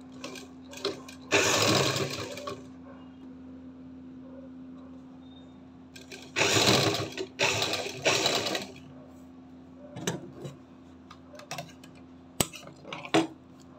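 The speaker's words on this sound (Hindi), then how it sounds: "इस तरह से अब हम इसमें सिलाई लगाना स्टार्ट करेंगे।" A sewing machine stitches an angrakha top in several close, steady runs of rapid mechanical chatter separated by quiet pauses, ending with a few light clicks and taps.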